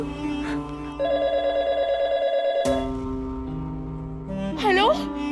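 A telephone ringing after a number is redialed, a repeated electronic ring tone sounding close and clear, followed by a higher warbling tone near the end.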